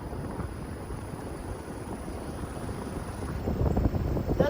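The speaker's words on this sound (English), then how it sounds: "First time seeing a heat pump run in heat mode ever. And it's starting to freeze up a little." A Ducane Lynx variable-speed heat pump runs outdoors in heat mode as it begins to freeze up, producing a steady airy whoosh like fan and wind noise with a high thin whine, growing slightly louder and rougher at the end.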